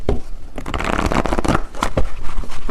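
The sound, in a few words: tarot cards being shuffled and drawn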